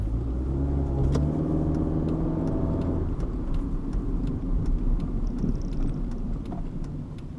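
A car's engine drones steadily while cornering hard at about 27 mph, its pitch lifting briefly early on before settling into a rough, fluttering rumble mixed with chassis noise. No one speaks.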